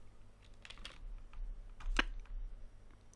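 Typing on a computer keyboard while entering a code term in a CSS menu tutorial, a few soft scattered key taps and one sharper clack, quiet and close with no talk.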